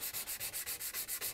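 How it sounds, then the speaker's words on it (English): An old hewing axe being sanded by hand with sandpaper, a quick steady back-and-forth rasp of about ten close, even strokes with no voices. "take it with sandpaper now"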